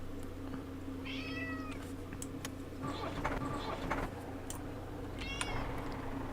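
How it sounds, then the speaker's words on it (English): A pet cat meows indoors, two or three drawn-out cries at moderate distance over a steady room hum and faint clicks. "That noise you can hear in the background is one of my cats who's decided to come in and start moaning"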